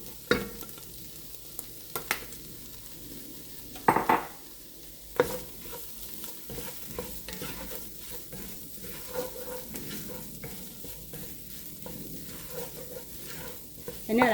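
Chopped jalapeño frying in a pan for vegan chili, a soft continuous sizzle with repeated scraping clicks and knocks of a spoon stirring, close and moderately quiet, with no talking.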